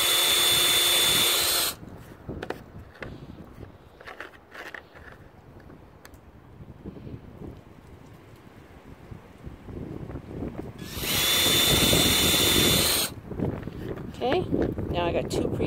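A power drill whirs loudly in two bursts, drilling into the top of a flat step railing, one at the start and another near the end, with quieter handling noise and wind between them.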